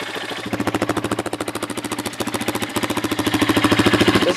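A Honda CRF230 dirt bike, just cold-started with the choke on, idles with a steady rapid single-cylinder thump, close and fairly loud, rising slightly toward the end, no talk.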